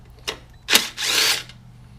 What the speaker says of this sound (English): Just remove these bolts.